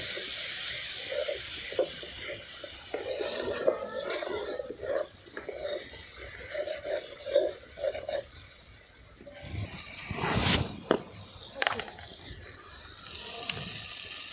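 Chili and spices frying in hot oil with a little water added give a steady sizzling hiss, with scraping stirring strokes and a sharp spattering burst near the end.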